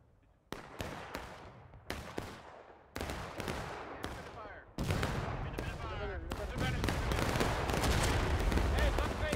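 Dense volleys of musket fire and booming cannon shots from the American Civil War game War of Rights on the Pry Ford map. The sharp cracks come in irregular bursts, then build into a continuous roar of battle.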